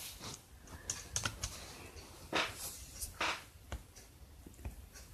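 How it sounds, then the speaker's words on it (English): Quiet, irregular tapping of fingers on a computer keyboard, a few brief bursts of keystrokes with short pauses, close and alone with no talking. "I'm going to type in truther."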